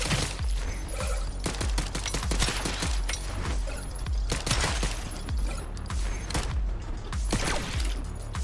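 Rapid, continuous video game gunfire crackles throughout, overlapping bursts and single shots layered with mechanical clatter, loud and busy with no pauses.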